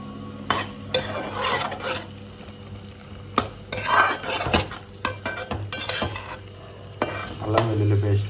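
Green chillies and curry leaves fry in onion paste for an egg curry, with loud crackling sizzle, repeated sharp spoon scrapes and clinks against the pan, and no talking.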